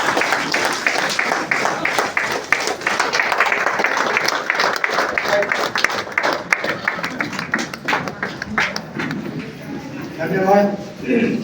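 An agricultural science centre gathering in Gumla, Jharkhand, where a standing audience claps in a sustained, dense burst at fairly close range, thinning out near the end as a voice begins.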